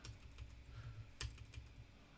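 Quick, light clicks of typing on a computer keyboard, faint and close, with one sharper keystroke partway through.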